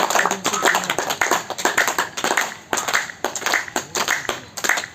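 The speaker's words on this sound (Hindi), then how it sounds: "तो इनके लिए जोर से एक बार ताली बजाइए जरा सा" A small audience claps for the senior yoga class at a Guru Purnima yoga gathering: close, uneven bursts of hand claps rising and falling in several waves, with no one speaking.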